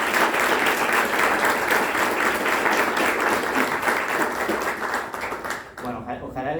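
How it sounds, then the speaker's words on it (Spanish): An audience at a Spanish-language criminalistics talk applauds with sustained, dense clapping that tapers off near the end as voices begin to emerge. "yo creo que un aplauso"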